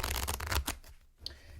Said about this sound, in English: We'll give these little cards a bit of a shuffle.